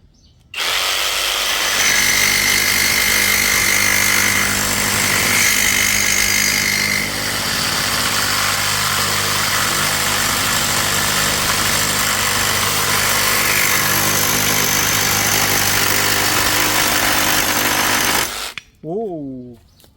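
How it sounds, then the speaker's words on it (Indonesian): A Dongcheng DCJF22 brushless reciprocating saw with a metal-cutting blade cuts through roughly 4 mm iron plate, a loud, continuous harsh buzzing rasp close up for about eighteen seconds, then it stops abruptly. "Sekarang kita akan memotong plat besi dengan ketebalan kurang lebih 4 mili ya."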